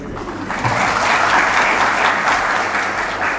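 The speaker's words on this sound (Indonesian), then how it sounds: "Yang di atas beri sorak-sorai buat Tuhan." A church congregation applauds and cheers for God, a dense, loud swell of clapping that builds quickly and holds steady throughout.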